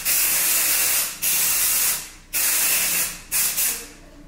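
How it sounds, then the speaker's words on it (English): Living Proof Dry Volume Blast hair spray blasts from the can in three long, loud hissing bursts with short pauses between, followed by a shorter double spurt, sprayed close over upside-down hair. "spray the full Dry Volume Blast by Living Proof all over my head"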